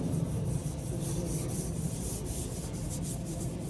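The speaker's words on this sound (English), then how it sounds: "Scrubbing it up a little bit." Scrubbing flaking paint off an old tractor, a steady faint rough rubbing and scraping that continues without pause.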